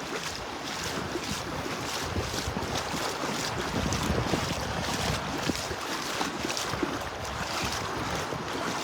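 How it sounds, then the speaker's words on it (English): Steady, loud wind buffets the microphone on a beach at Delnor-Wiggins on a chilly morning walk, a continuous broadband roar with gusting swells and faint surf underneath, no voices. "Big difference when you're walking into the wind here versus walking away from it."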